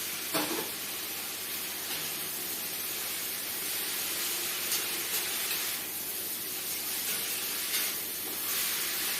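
Flat beans with coconut and lentils sautéing in a pan, a faint steady sizzle and hiss that holds throughout with slight swells.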